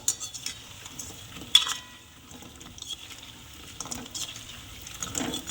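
Fried paneer pakoras are lifted from a pan of hot oil: scattered metal scrapes and clinks of a utensil over a soft, low sizzle, with one sharp clank near the middle.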